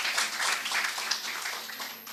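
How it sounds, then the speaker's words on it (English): Dense, steady applause from an audience at the National Stock Exchange listing ceremony for Drone Destination Limited, many hands clapping together at moderate loudness and easing slightly toward the end, with no talk over it. "Please have a big applause."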